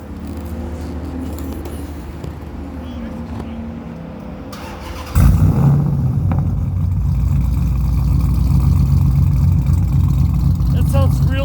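After a quieter stretch, a car engine with a modified exhaust fires up abruptly at a car show and settles into a loud, rough, throaty rumble up close; a voice is heard briefly at the end.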